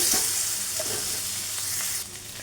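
Bottle gourd pieces hit hot oil already seasoned with cumin and asafoetida, giving a loud, steady sizzle and crackle with a brief stir at the start, easing slightly toward the end.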